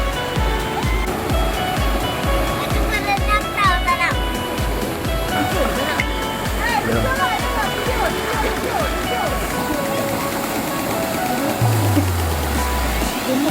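A river stream flowing at a wild campsite on the Batang Kali river, a constant close rush of water with a steady rhythmic thumping through the first half and a low hum near the end.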